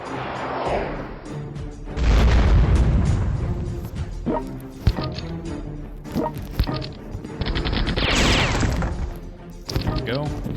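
Bomb explosions from an airstrike in the strategy game World Conqueror 4 land as several heavy crashing booms and thuds over a dense, busy game soundscape, with a loud burst early on and more impacts later.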